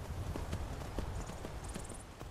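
Horse hooves clip-clop in steady rhythm across the whole stretch in Skyrim: Anniversary Edition, a role-playing game, with a brief high chime near the end and no talk.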